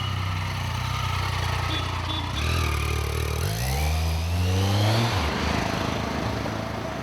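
A 1200cc motorcycle riding off at night, its engine revving up in rising sweeps, then roaring past and fading, fairly close, with no talk over it.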